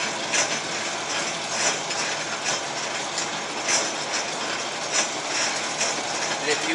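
Lathe cutting threads with the half nut engaged, a steady close mechanical whir and grind with regular rhythmic ticking pulses from the gearing, with no talk over it.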